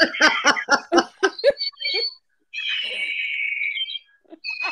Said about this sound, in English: It's an eagle